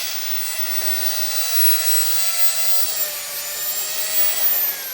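A Dremel rotary tool with a diamond bit carves wood, producing a steady high-pitched whine with a faint grinding rasp, close and continuous with no talking.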